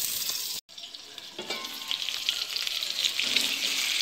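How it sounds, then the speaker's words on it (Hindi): Stuffed brinjals cooking in oil in a pan, a close, steady sizzle broken by a sudden brief silence near the start, then resuming with soft stirring knocks and a gradually fuller hiss. "ये हमने बैगन सारे इसमें डाल दिए, अब मैं इसको कवर करके पकाऊंगी।"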